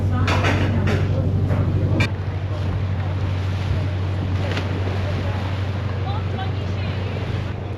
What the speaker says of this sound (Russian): Вы видите, насколько сильные там волны